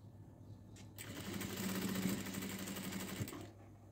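A sewing machine runs close by, double stitching two folded-in fabric edges, with a steady mechanical whir that starts, holds for a few seconds at an even pace, then stops.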